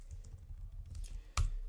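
Fingers tapping a computer keyboard to type a ChatGPT prompt, a quick run of soft, close keystrokes ending with one louder key thump.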